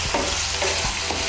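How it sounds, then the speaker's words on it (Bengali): Spice paste mixed with sour yogurt is stirred and fried in a pan, giving loud continuous sizzling with a few soft scraping strokes of the spoon, close and alone. "মিশিয়ে নিয়ে আরেকটু ভেজে নেব মশলাটাকে।"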